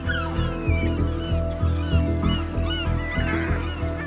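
Loud honking gull calls repeat in quick, uneven bursts, harsh and close, with overlapping cries from more than one bird on a British island.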